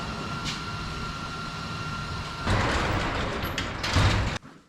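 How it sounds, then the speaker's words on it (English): A sliding door on a garage or shop is rolled shut, a sustained rumbling slide that grows louder and ends in an abrupt clunk, close and alone. "I closed that door down to cut out the breeze"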